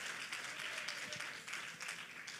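A church congregation claps during a pastor's message, a faint, steady patter of many hands heard from a distance, with no voices over it.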